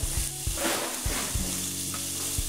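Salmon bacon frying in a little olive oil crackles and sizzles close up, with rhythmic knocks of a wooden spoon stirring in the pan and no speech.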